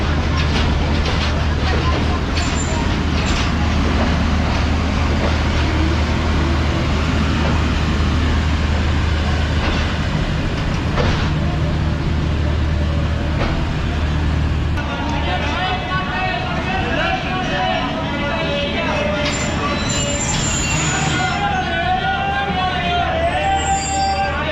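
A steady, loud low rumble and rattle of the Pakistan Express sitting at Rohri Junction at night, with other trains lined up behind, continuing unbroken throughout, with a voice talking over it.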